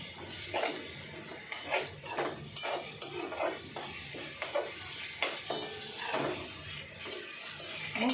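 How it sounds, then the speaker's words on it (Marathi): Ground green masala paste sautéed in oil in a pan for a brinjal and potato curry, with a soft steady sizzle under repeated scraping stirring strokes from a spoon against the pan, close and fairly quiet, no voices. "ते पण परतून घ्या व्यवस्थित।"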